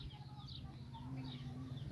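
Chickens and chicks at a rural home cluck and peep softly at close range over a low, steady background hum.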